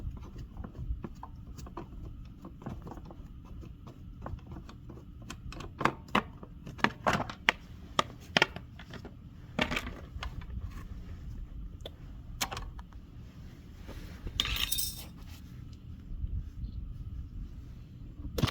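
Plastic clicks, taps and rattles as the filter cover, air filter and carburetor plate come off a fire-damaged Generac generator, a run of sharp close handling knocks over a low steady background hum.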